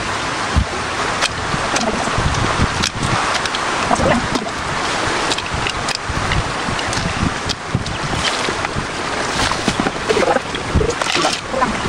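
Steady, dense broadband wash of heavy rain pouring down, loud and continuous throughout with no voices.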